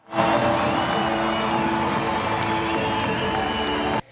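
A packed Nacional stadium crowd gives a rain-soaked ovation to Santiago Ford, the Pan American Games decathlon winner: a dense, steady roar of cheering and whoops that holds for about four seconds and then cuts off sharply.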